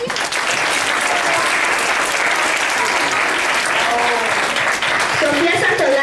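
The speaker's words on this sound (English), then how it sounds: "Give an applause to the chorus." A primary-school play audience claps loudly for the chorus in a sustained, dense burst, while a voice speaks briefly over the applause near the end.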